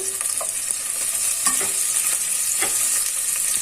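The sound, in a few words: onions and green chilies frying in a pan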